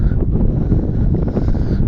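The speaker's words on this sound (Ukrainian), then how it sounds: "нас вітер щось сьогодні такий дує." Steady wind buffets the microphone outdoors in a soybean field with a constant low rumble and roar, continuous and loud throughout.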